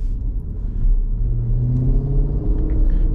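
A 2020 Jeep SRT drives through the streets of Queens, New York City, its deep engine rumble steady and close, swelling into a rising rev partway through.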